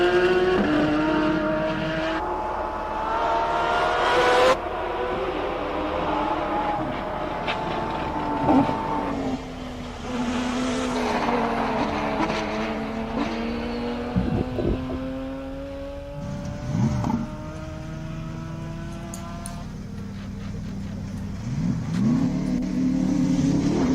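Race cars climb the Simola Hill one after another at a hillclimb event, engines revving hard and rising in pitch through gear changes, loud and passing close, with short quieter gaps between runs.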